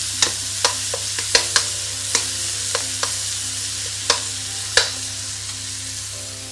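Onions fry in a pan with a steady low sizzle, while a utensil knocks sharply against the pan about a dozen times at irregular intervals, close and clear.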